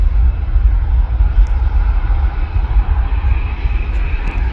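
A jet airliner at Manchester Airport taking off or landing on misty dual-runway operations, a steady broad engine roar with heavy low rumble, fairly loud and continuous throughout with no talk.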